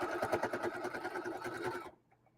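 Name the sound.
sewing machine sewing fabric strips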